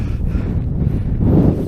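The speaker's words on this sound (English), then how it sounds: "Oh, a bit windy up here." Wind buffets the microphone on the exposed hilltop of Grinah Stones in the Peak District, a low, rumbling gusty roar that rises slightly near the end, with no voices.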